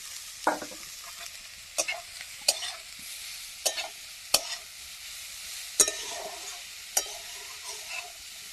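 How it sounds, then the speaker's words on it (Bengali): Grated cauliflower frying in a pan for paratha filling, with a steady low sizzle punctuated by roughly ten sharp scrapes and clicks of a spatula stirring at irregular intervals, close and alone. "নাড়াচাড়া করে ভেজে নেবো।"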